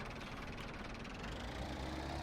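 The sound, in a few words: Highline Plus tractor engine starting and idling, Farming Simulator 17 game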